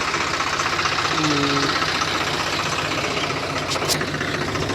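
A tractor engine runs steadily on a village road, a loud, rough, knocking drone that holds at the same level throughout and has no pauses. No voices are heard.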